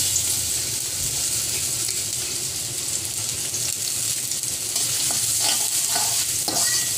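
Finely chopped onions fry in hot ghee with a loud, even hiss and crackle, close and constant, with light stirring scrapes toward the end.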